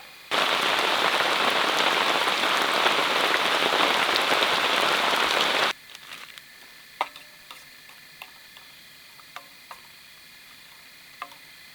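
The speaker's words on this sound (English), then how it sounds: "And there's our rain." Heavy, steady rain hisses loudly for several seconds, then abruptly gives way to quiet with scattered individual drips ticking now and then.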